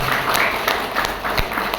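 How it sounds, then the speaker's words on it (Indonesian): A seminar audience applauds in a room, a broad wash of hand claps that stays steady and fairly loud for about two seconds. "Tepuk tangan buat HNI Bapak Ibu sekalian."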